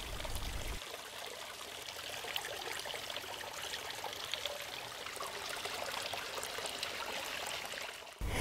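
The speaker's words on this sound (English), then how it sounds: "still with a pleasant stream winding between rocks and plants" A small stream in a garden water feature winds between rocks and plants, a soft continuous trickle and babble heard close and steady, with faint background noise.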